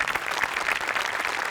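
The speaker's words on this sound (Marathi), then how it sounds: "एकदा जोरदार टाळ्या व्हायला पाहिजेत" Studio audience at a Marathi comedy show breaking into loud, dense clapping, a continuous burst of applause close and full throughout.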